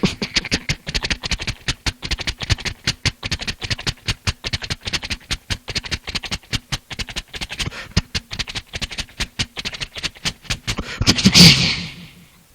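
A voice imitates a train approaching from the opposite side, a steady rapid series of sharp rhythmic clacks and puffs that rises into a louder burst right at the end.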